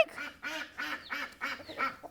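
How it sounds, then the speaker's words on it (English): Duck quacking, four or five evenly spaced quacks in a steady rhythm, moderately close and clear with no talk over them. "We've got Mama Duck over there going quack, quack, quack, quack, quack, quack"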